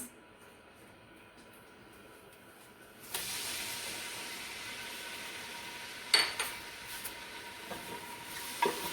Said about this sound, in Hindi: प्याज फ्राई कर लेते हैं